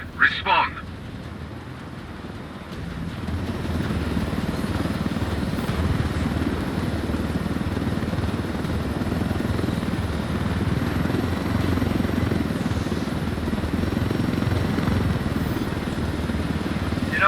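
A helicopter in the video game Ghost Recon Wildlands, its rotor and engine holding a steady, loud chop throughout as voices talk over it.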